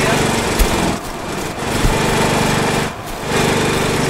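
A loud, continuous tractor engine drone in a video game (Death Tractor) with a buzzy mechanical tone, briefly dipping twice, steady and close throughout.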